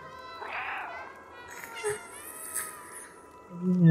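A cat meows in the video game Stray, several short, clear tonal meows in sequence at close range, with a voice speaking briefly near the end.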